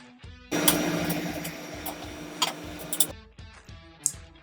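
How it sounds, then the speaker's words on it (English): A blender runs on an apple sample in a chemistry lab, a loud continuous whirring grind for about two and a half seconds with rattling bursts, then it cuts out into quieter clicks and knocks. "We can use a blender to achieve this."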